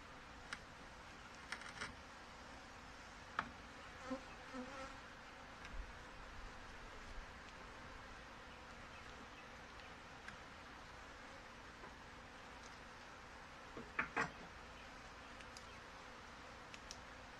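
Honey bees drone in a steady, low hum around an open hive box during an inspection, with a few louder buzzes as individual bees pass close, and occasional faint clicks over the continuous swarm noise.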